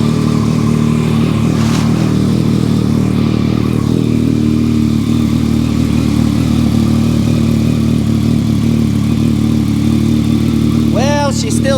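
A 1968 Datsun engine runs steadily, a low rumbling idle that carries throughout, loud and close, with faint speech-like sounds over it and a brief higher whine near the end; the car may be running on ethanol fuel.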